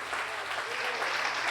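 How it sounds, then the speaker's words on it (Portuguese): A church congregation claps together in dense, sustained applause, even and moderately loud, filling the room without pause. "Pode aplaudir a Jesus."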